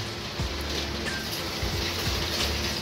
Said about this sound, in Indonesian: Oh, hujan nih sore ini ya.